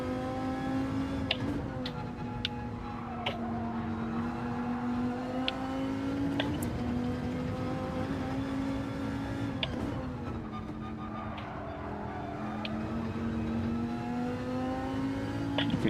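Porsche race car at Monza in Gran Turismo 7, its engine holding a steady, sustained drone with slight pitch dips and rises through corners, loud and continuous with no talk.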